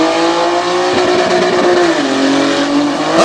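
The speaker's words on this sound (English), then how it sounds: "Up on the rev limiter." Sprint car racing at Selinsgrove, Pennsylvania: a race car engine screams at high revs, held steady against the rev limiter in one loud, continuous snarl, with a slight pitch dip midway and no talk.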